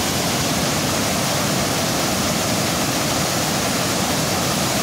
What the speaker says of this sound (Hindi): आवाज़ बहुत ज़्यादा तेज आ रही होगी पानी की